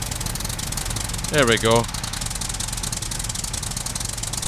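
A tractor engine in the survival video game SCUM idles with a steady low rumbling chug and knocking, while a voice briefly speaks over it midway.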